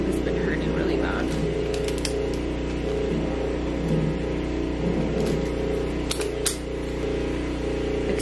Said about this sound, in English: They're pressure washing my house right now from the outside.